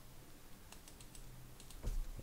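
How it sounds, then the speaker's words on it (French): Computer keyboard keystrokes, a Ctrl+A select-all followed by a Ctrl+C copy, sound as a few faint, scattered clicks close by, ending with one slightly louder press. "Je viens faire un CTRL A pour toutes les sélectionner et puis un CTRL C"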